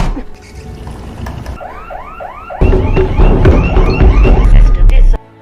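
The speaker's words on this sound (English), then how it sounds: "the security system sounded, which made Sophie quite panicked" An electronic security alarm blares nearby, cycling through loud repeating rising chirps that grow louder and then cut off abruptly.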